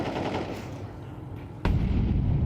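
Rifle spray in Counter-Strike during a major esports tournament: a sudden burst of rapid, loud automatic fire starts partway in over steady background noise.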